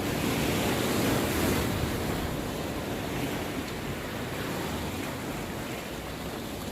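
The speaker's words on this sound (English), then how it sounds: "Those are the freak waves I was talking about." Sea waves crash on rocks during shore fishing for pollock, a loud, steady, broadband roar that swells and stays constant throughout with no talking.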